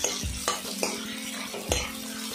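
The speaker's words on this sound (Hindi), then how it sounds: "हम लोग कंटे में चलाते रहेंगे ताकि ये लग ना जाए," A spoon stirs paneer frying in a kadhai, making a few distinct scraping knocks over a continuous close sizzle of hot oil.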